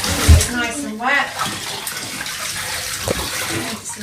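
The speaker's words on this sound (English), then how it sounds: "you pour some on Monty as well, and then we'll get him nice and wet" Water is poured over a baby named Monty at bath time, splashing and trickling in short gushes into the bathtub, close and fairly loud, with people talking in between.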